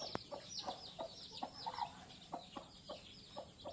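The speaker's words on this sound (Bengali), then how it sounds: "সেখানে দেখেন কত সুন্দর মুরগি, দেখছেন।" Chickens cluck indoors in a room, a quiet run of short, repeated clucks and soft calls spaced through the few seconds, with no talk over them.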